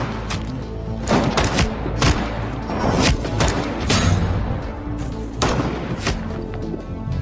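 A film gunfight: bursts of gunfire and heavy thuds and booms erupt in repeated loud volleys, with several strong cracks spaced a second or so apart and no talking.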